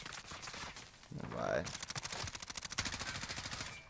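Rapid bursts of Call of Duty gunfire rattle in quick succession over a busy mix of sound, with a voice speaking briefly.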